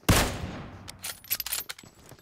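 A single sharp, loud shotgun blast in PUBG Mobile fires at close range and decays quickly, followed by a scatter of lighter clicks and rattles of handling and movement.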